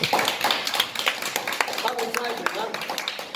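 Applause from an audience at an art exhibition opening, a fairly quiet patter of many hands with a voice speaking over it.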